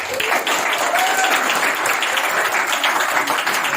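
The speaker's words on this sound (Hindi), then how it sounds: "ताली बनता है भाई।" A seminar audience claps enthusiastically in a dense, loud, sustained burst of many hands, with a faint voice briefly audible under the applause.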